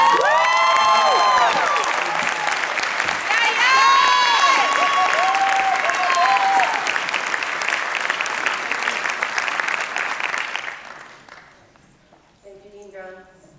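Sustained applause from a commencement audience, with cheers and whoops, welcomes a graduation speaker to the stage, loud and steady for about ten seconds before fading as a voice begins.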